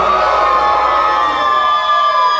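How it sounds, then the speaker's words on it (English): A club concert crowd screams and cheers loudly in a sustained, dense roar of shouting and whooping voices filling the room. "I want to hear everybody fucking scream for that."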